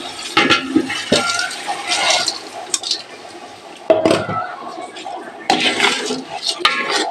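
Rice being washed in a pot with water, with repeated sloshing, scraping and clattering against the pot in irregular bursts, fairly close, while a person talks at times.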